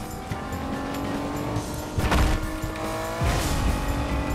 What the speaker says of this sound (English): I'm driving on the road.